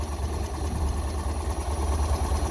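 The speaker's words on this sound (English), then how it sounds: "See her running there, and we've got a nice exhaust note hitting on all 4 cylinders." A four-cylinder car engine idles steadily nearby, its low, even exhaust note rumbling without a break and no one talking.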